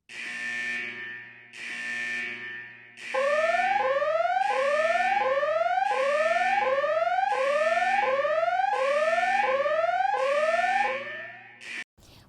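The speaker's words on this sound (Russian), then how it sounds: "электрический импульс, передавая его на микроконтроллер, приводя в действие систему сигнализации" A smoke detector triggers a fire alarm, sounding a loud electronic tone in repeated bursts, then a rapid warbling siren sweep that cycles steadily and fills the space, with no voices.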